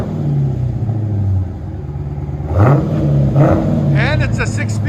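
A 2021 Dodge Challenger Scat Pack's 6.4L HEMI V8 with dual exhaust and a 6-speed manual idles with a low rumble, then revs up loudly in a couple of throttle blips, while people talk nearby.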